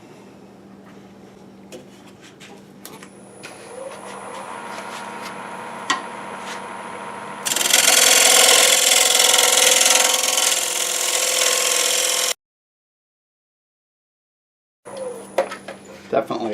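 Wood bowl vase spinning on a lathe while being turned, giving a steady scraping, rubbing hiss that swells loudly mid-clip, cuts out briefly, then returns. Hot sawdust flies off the workpiece.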